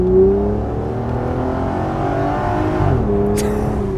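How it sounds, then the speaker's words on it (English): A 1999 Plymouth Prowler with a 253-horsepower engine and auto-stick transmission accelerates hard, its engine note climbing steadily and loudly, with a brief drop in pitch at a gear change before pulling up again. "Daily driving my 1999 Plymouth Prowler."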